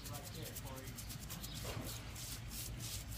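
Steady close rubbing and scrubbing over an albino alligator's hide, a continuous soft abrasive rasp with no pauses.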